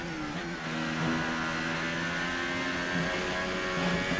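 An F1 race car engine in F1 2018 whines steadily at high revs, short-shifting through gears with slight pitch dips, loud and continuous with no voices over it.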